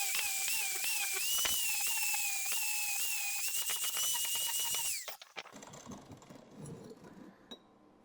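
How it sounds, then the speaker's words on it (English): An angle grinder whines steadily against steel, grinding mill scale off before welding, loud and close for about five seconds before cutting out, followed by quieter shuffling handling noises. "I'm going to grind some of the mill scale off and prep these things to be welded together"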